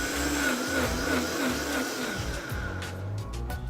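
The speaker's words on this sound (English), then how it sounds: "We just put it in the blender and press play." A blender whirs loudly and continuously through salsa ingredients (roughly chopped produce, cilantro leaves, lime juice and salt), its motor pitch wavering as the contents churn, close and alone.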